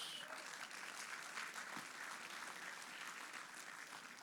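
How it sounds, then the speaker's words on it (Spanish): A church congregation applauding during a Spanish-language service on prophecy, a dense, steady wash of clapping that holds evenly for several seconds at moderate level, with no speech over it. "Dele fuerte el aplauso a Dios."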